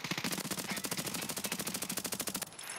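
Automatic gunfire empties a magazine in the video game Escape from Tarkov, a rapid, evenly spaced string of roughly two dozen shots in one sustained burst, then abruptly stopping.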